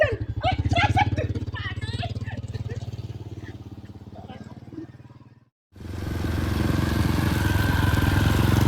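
A motorcycle engine runs steadily, a buzzing mid-pitched drone that fades in loudly after a brief gap, following lively overlapping talk with a low engine hum underneath.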